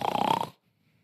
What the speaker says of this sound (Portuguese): Isso é um ronco.